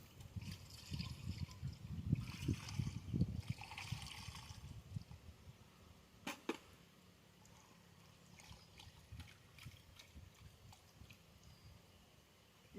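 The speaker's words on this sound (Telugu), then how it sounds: "ఈ విధంగా మనము కొద్దిగా వాటర్ పోసుకొని మళ్ళీ ఇస్తాము." Water trickles and splashes as it is poured into a soapnut and asafoetida solution, faint and intermittent, strongest early on and fading to soft dribbles; no voices.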